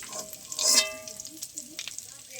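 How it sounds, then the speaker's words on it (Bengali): Soft chhana koftas fry in hot oil with a close, bubbling sizzle and a short metallic ring from a utensil early on. "আবার সব কোপ্তাগুলো ভালো ভাজা হয়ে গেছে"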